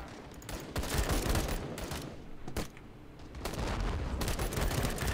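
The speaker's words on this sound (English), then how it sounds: "My guy just shot the floor." Dense, rapid gunfire from the Call to Arms combat game, a near-continuous loud fusillade of automatic shots with a brief lull in the middle before the volume climbs again.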